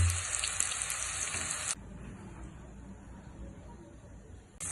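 Sliced bitter gourd fries in hot oil: a bright, hissing sizzle starts strong and close, then drops abruptly to a softer crackle that carries on steadily.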